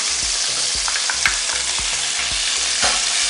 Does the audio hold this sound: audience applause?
no